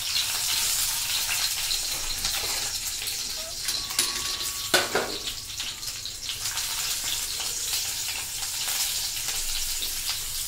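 Chillies fry in hot oil for a tomato chutney, giving a continuous crackling sizzle with a brief stirring clatter midway.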